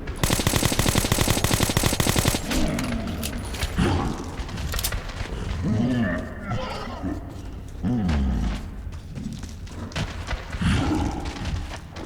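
Sustained automatic gunfire in Metro 2033 opens loud and rapid, then gives way to growling creature roars and scattered shots, with someone talking over parts.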